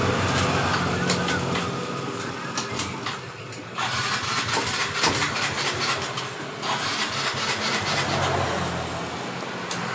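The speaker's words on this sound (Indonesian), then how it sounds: "Coba kita engkol, apakah ketika di engkol motor ini tiba-tiba hidup." A Yamaha Mio motorcycle that is hard to start and dies when the throttle is opened is kick-started over and over, giving a busy, noisy mechanical clatter that keeps going and never settles into a steady idle.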